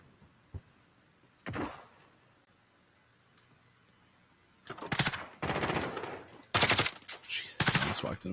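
Video game gunfire in a bomb-retrieval mission, with a few isolated shots early, then dense, loud automatic bursts in clusters toward the end, up close and without speech.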